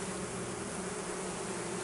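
Dense, continuous buzzing of many honeybees close by at a Spanish Layens hive with natural comb, a steady hum with no breaks.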